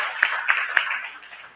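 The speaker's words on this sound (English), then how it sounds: "applause for that amazing brother right there" An audience at an awards gala gives applause to a speaker: a short burst of fairly close, steady clapping with a few sharper individual claps, mixed with faint crowd voices and tapering off toward the end.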